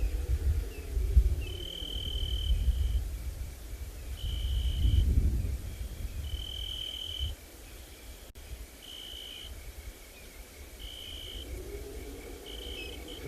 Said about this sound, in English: We can hear some cicadas off in the distance, busy calling, and various other types of crickets